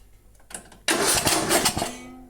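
A Craftsman garden tractor engine with the choke on cranks with a few rough puffs, then fires and runs loud and ragged with uneven pulses, close by and alone.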